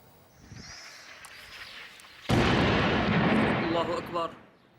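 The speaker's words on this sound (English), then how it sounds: "Syria's third largest city, Homs, under renewed government shelling this morning" Government artillery shelling hits Homs, Syria: a sudden loud blast erupts and rumbles for about two seconds after quieter distant noise, with a voice briefly audible.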